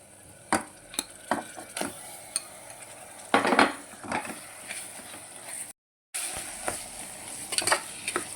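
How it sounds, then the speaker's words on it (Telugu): Mutton keema frying in oil in a pan, a steady close sizzle broken by repeated scraping stirs of a spoon, with a brief drop to silence partway through. "మటన్ కీమా మంచిగా ఆయిల్లో ఫ్రై ఆయిల్లో ఫ్రై అవ్వాలండి"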